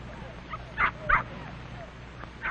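Puppies give two quick high yips close by, around the one-second mark, with a few fainter whimpers over a low, steady background hum.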